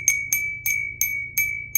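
A vintage bell ornament handled during Christmas decorating rings out in six bright, evenly spaced strikes, each clear ding leaving a steady sustained tone that hums underneath, close and alone.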